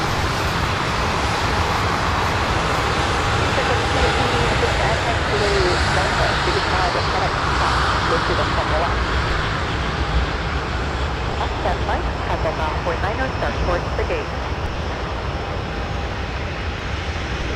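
An ATR turboprop airliner at Minneapolis airport produces a constant broadband engine drone with a rumbling low end, heard steadily beneath scattered background voices and radio-like chatter.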